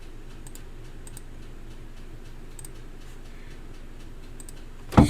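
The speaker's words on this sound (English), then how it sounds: "I guess you have to type" Light clicking keystrokes on a computer keyboard while entering a value in sign-making design software, a few short bursts spaced across a quiet room, ending in a sharp louder click.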